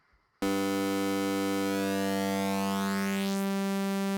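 A synthesized tone from the Cosine phase distortion oscillator in Drambo sounds alone after a brief quiet start: a loud, steady, buzzy tone whose upper overtones sweep and brighten toward the end.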